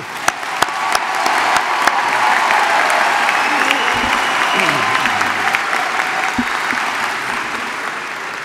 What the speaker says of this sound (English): join me with another well-deserved round of applause for our graduates